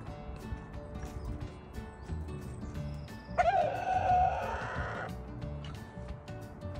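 A rooster of a blue-egg-laying breed crows once, a loud drawn-out call rising above the quiet farmyard murmur and faint clucking around it.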